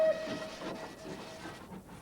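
A diesel train rumbles along steadily with a faint hiss and a brief whistle-like tone at the start, mid-distance and continuous.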